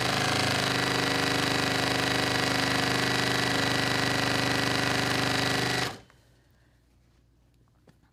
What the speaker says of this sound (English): I feel like the sewing machine's going really slow today.